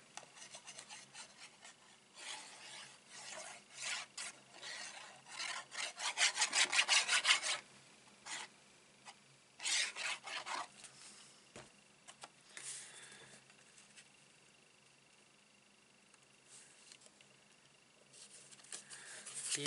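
Paper card stock rubbed from the back by hand while assembling a die-cut card, soft close scratchy strokes that come in uneven bursts, louder in the middle and then trailing off into quiet.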